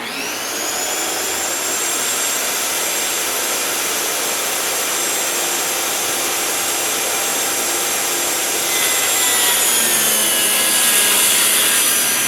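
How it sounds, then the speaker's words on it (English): A table saw cuts through a big maple board with a loud, continuous high whine and rasping roar that holds steady throughout, growing slightly louder near the end, with no talking. "we're going to have to run this through the table saw and cut it down to 12 inches"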